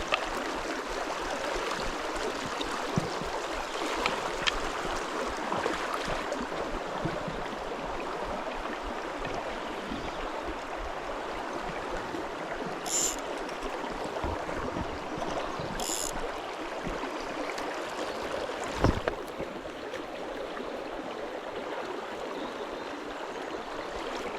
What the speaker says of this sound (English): this noisy water should be